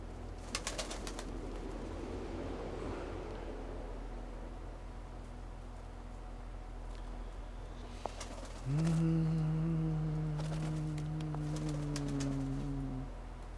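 Pigeons coo in the evening in a low, steady hum that swells loudly partway through and holds for several seconds, over a constant background rumble.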